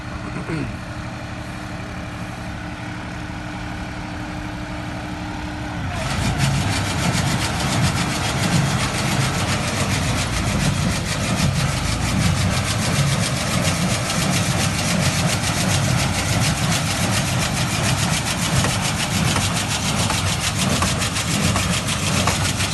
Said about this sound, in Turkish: Hadi Abdullah çalıştır motoru. Canavar gibi maşallah